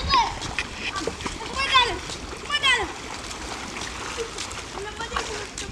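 Children splashing and playing in the sea at a beach in the Gambia, with repeated irregular splashes and sloshing water mixed with kids' voices and chatter close by.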